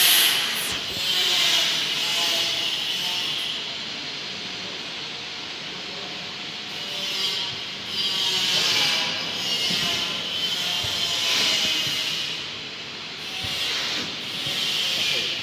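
A wafer cone machine cleaning itself with poured-in water gives off a continuous loud hiss and spray that swells and dips in waves, with people talking faintly over it.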